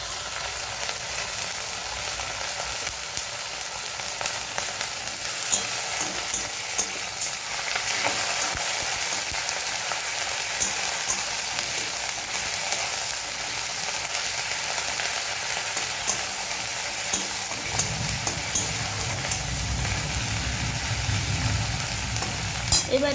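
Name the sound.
frying ginger garlic paste with onions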